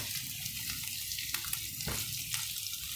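Potatoes and onions sauté in a pan with steady sizzling and frying, occasional clinks and stirring scrapes, close and fairly quiet.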